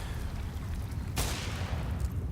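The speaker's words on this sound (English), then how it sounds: "Gunfire follows suit" Counter-Strike gunfire during a pro match, a dense rumbling burst of shots over constant background noise with one sharp crack in the middle.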